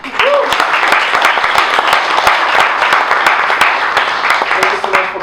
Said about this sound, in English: let's welcome with a huge round of applause, Vitaly Friedman